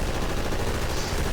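Continuous SMG fire in the Half-Life Vertigo mod, a loud dense rattle of rapid shots filling the whole moment, with no talking.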